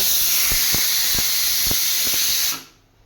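A pressure cooker cooking chicken stew vents steam in a loud, steady hiss with a few soft knocks underneath, then cuts off abruptly into quiet.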